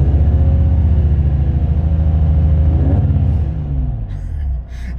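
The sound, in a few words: Toyota Supra MKIV exhaust revving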